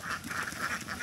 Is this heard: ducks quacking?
yes